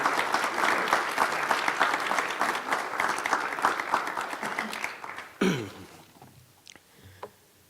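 An audience at a talk on unions and immigrant workers claps steadily for about five seconds to welcome speaker Eliseo Medina, then the applause stops, leaving a few faint coughs and shuffles.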